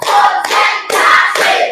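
Schoolchildren clap together in time, four loud sharp group claps spaced evenly about half a second apart, each ringing briefly.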